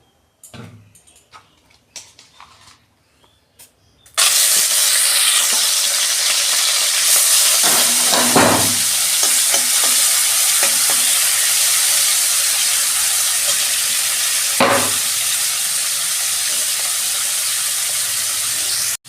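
Fish seasoned with salt and turmeric sizzles loudly in hot oil after a few seconds of quieter clatter, the frying holding steady with occasional sharp spatters and utensil clicks.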